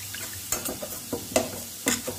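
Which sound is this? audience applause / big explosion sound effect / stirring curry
stirring curry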